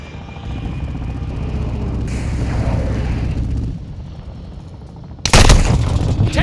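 Gunfire and explosions during an Invasion match on Sa'id in Call of Duty Modern Warfare 2, with a rumbling helicopter-like drone under scattered shots and a sudden loud burst of fire near the end.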